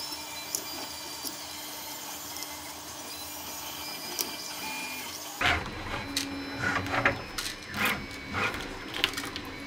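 Tevo Little Monster 3D printer running, quiet steady hum giving way halfway to busier stepper motor whirring and rhythmic mechanical buzzes, fairly faint and close.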